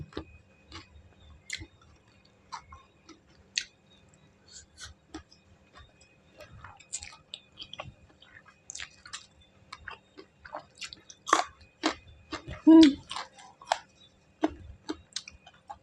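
Crunchy spicy Thai seafood salad being chewed close to the mic, a run of short, crisp bites and mouth clicks, mostly soft with one louder crunch near the end, and no talking.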